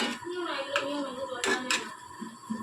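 Tomato paste is stirred into egg ball curry in a pan, with a spoon scraping and clinking against the metal in a few close, sharp knocks under talk.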